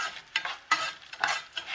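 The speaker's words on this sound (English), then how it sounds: "now that the butter is sizzling here in the rice" Butter sizzling and crackling in a pot of rice, with bursts of frying hiss rising and falling as it is stirred, close by.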